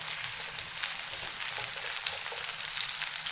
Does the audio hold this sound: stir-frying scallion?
yes